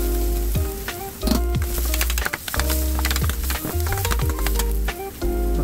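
Garlic, onion and turmeric sizzle loudly in an oiled pan, a dense crackling hiss up close, punctuated by repeated clanking scrapes of a spatula stirring against the metal, with no voices.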